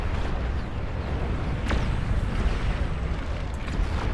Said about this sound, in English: I will say the new explosions definitely, they make you feel it